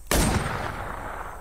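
A single loud gunshot in the video game WarZ, a sharp crack that fades into a long, rolling echo with no talk over it.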